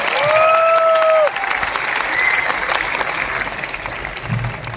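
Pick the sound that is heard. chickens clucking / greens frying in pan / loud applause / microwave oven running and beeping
loud applause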